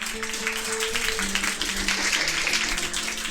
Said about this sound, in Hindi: आइए एक बार तालियां हो जाए इनके लिए